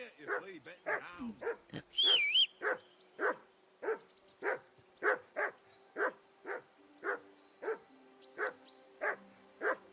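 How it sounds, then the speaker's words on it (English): A dog named Mutt in Kingdom Come: Deliverance II barks repeatedly in a steady, evenly spaced rhythm, with a whimper or yelp early on and a voice speaking near the start. "Quiet, you flea-bitten hound."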